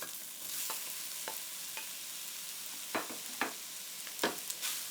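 Mushrooms sizzle and crackle in a hot pan, with several scraping stirs of a utensil as they are stir-fried and tossed.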